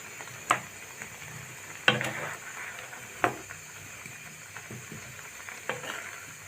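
Mango pieces with turmeric, coriander and roasted cumin powder are stirred in a pan for a Burmese-style pickle; a few sharp spoon clinks and scrapes stand out over a low, steady background.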